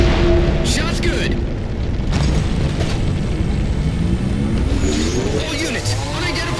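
A Halo 4 Mammoth vehicle takes a hit, with loud rumbling blasts and a heavy engine drone filling the whole stretch, bursts near the start and again toward the end, while a voice talks over it.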